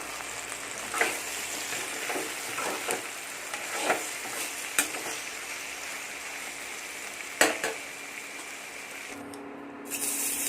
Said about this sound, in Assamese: এইফালে বনাই আছোঁ বেঙেনা আৰু আলুৰ ভাজি